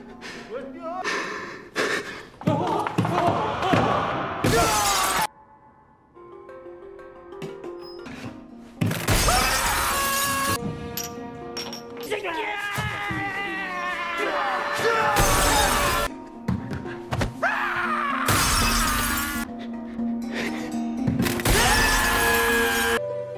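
Glass panels of a bridge shattering repeatedly in a Squid Game film recap, several loud bursts of breaking glass cutting through music and dramatic scoring, with a voice talking over parts of it.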